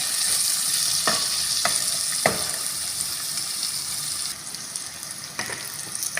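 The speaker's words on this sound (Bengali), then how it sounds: "এখন আমি এই যে ডাটাগুলো আর আলুটা এখানে তেলের সাথে একটু নেড়ে চেড়ে হালকা করে" Potato and greens stalks frying in oil in a pan, a steady bright sizzle broken by a few sharp spatula scrapes and taps as they are stirred.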